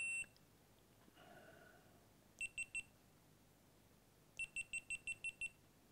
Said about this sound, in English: That's the sound of the end of the GoPro that was over there filming me for the other angle.